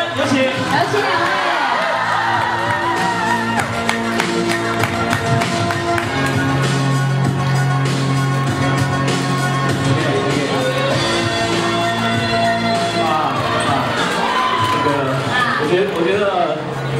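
A crowd at a film press conference and fan meeting claps and cheers continuously and loudly, with whoops rising over the applause while an amplified voice talks over the noise.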